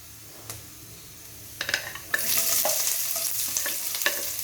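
Onions dropped into a hot frying pan for ginataang tilapia, followed by close, steady sizzling with scraping stir strokes and light clinks of utensil on pan, no talk.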